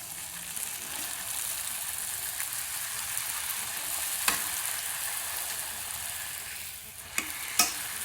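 Carrot puri frying in hot oil in a pan, a steady close sizzle throughout with a few brief sharp clinks or scrapes near the end, no talking.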